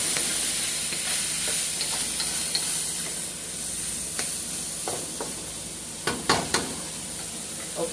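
Food stirred in a sizzling pan while making baked spaghetti, a steady close frying hiss with scattered scrapes and clatters of a utensil against the pan, louder near the end.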